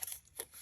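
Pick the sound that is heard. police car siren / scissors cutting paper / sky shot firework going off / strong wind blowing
scissors cutting paper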